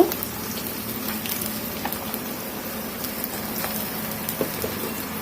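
Chopped onion and green chili fry in oil in a pan, giving a close, continuous crackling sizzle with scattered pops.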